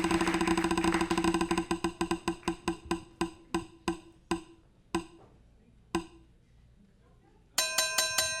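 A prize wheel spins with a fast train of sharp clicks that slow and spread out as it winds down, then stop, followed by a bright chime.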